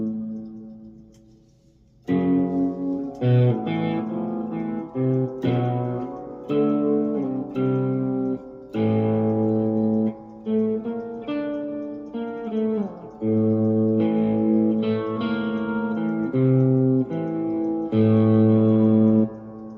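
A guitar plays metal tones through a Positive Grid Spark 2 amp: sustained, effects-heavy notes and chord stabs in choppy phrases with short gaps, loud and close, with no talking.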